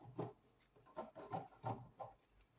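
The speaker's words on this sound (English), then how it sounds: "So we'll be trimming out this excess at the back." Scissors cut away excess Ankara fabric for a peplum top in a run of soft, rhythmic snipping and rubbing strokes about twice a second, close but quiet, no voice.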